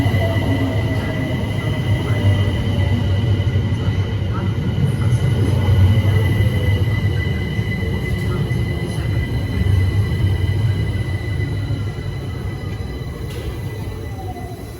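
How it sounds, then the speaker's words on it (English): A London Overground Class 378 electric train, unit 378227, runs the Windrush line service to Dalston Junction at a South London station. It produces a loud, continuous low rumble with a faint rising whine and occasional clicks. "here we have the delayed 10:43 Windrush line service to Dalston Junction"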